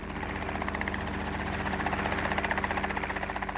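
A two-seat coupe-cabin helicopter's engine and rotor drone steadily and loudly, with a rapid, regular thudding beat that grows more distinct toward the end; no voices.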